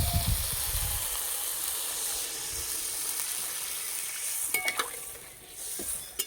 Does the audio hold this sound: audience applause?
no